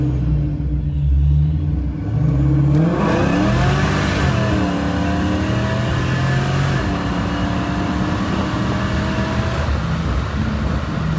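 1973 Ford Mustang Mach 1 V8 revving with a slipping belt, a deep loud rumble climbing into strained revs that hold and fall back, close and continuous with no talk.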